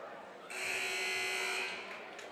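A loud electronic basketball game buzzer at a high school girls' game blares for about a second, harsh and steady, over faint background noise.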